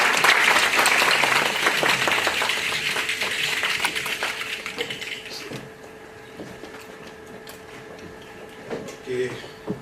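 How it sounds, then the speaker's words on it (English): An audience at a scientific meeting applauds a presenter, loud clapping that fades out after a few seconds into room noise with faint talk. "let's give them a round of applause."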